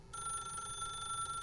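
A telephone rings in the video game The Stanley Parable, a faint, steady electronic trill that starts abruptly and holds on unbroken.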